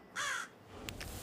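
A crow caws once, loud and close, in the horror video game Scary Mansion. A fainter, shorter call follows over a hushed ambient background.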